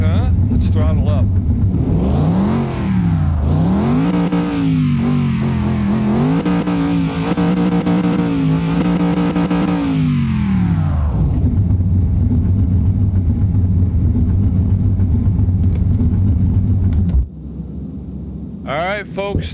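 A car engine in Car Mechanic Simulator 2021 revs up loudly and sweeps through rising and falling pitches for about ten seconds, then settles into a steady idle. A voice talks over part of it.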